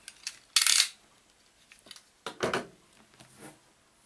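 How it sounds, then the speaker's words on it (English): A knife slicing through a sticker seal on a thick cardboard box, a few sharp scratchy cuts and rustles with quiet gaps between, close and fairly crisp. "I'm just going to use a knife to try and just cut neatly through this sticker"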